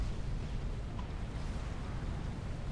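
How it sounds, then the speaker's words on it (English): A continuous, muffled rumble of volatile explosions and nuclear blasts from the strategy video game Supreme Commander rolls on at low volume without clear breaks, with no voices. "Volatile explosions going up."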